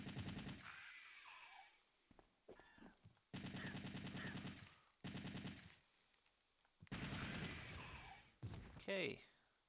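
A machine gun fires in Resident Evil 3: Nemesis (1999) on hard mode, in several separate sustained bursts with short quiet gaps and game sounds between them. The level is fairly low overall.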